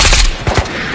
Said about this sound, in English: That scab's still shooting at you?